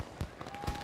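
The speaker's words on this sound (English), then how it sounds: "Oh, I love fireworks." Fireworks crack and thump in a few scattered bursts, distant and muffled beneath a steady background hiss.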